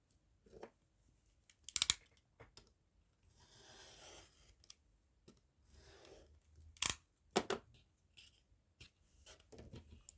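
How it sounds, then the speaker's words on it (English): Scissors snip through a used Christmas card to cut it in two, a few short crisp cutting bursts with quiet rustling of card between them, close and alone. "I'm going to just try and position it on a line so I can cut straight. I'm going to cut it into two."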